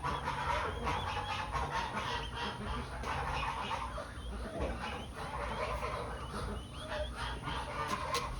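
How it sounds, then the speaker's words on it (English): An agitated turkey hen gobbles and squawks repeatedly in a stall over a constant barn-like noise, close by and fairly loud. "I guess it's a turkey, it's a hen, she's very agitated with me being in this stall."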